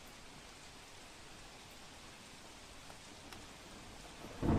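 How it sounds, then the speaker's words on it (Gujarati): Torrential rain pours in Botad district, a steady, even hiss of heavy rainfall that stays constant and fairly faint throughout, ending in a brief louder burst with no voices. "બોટાદ જિલ્લામાં સાર્વત્રિક વરસાદ વરસી રહ્યો છે"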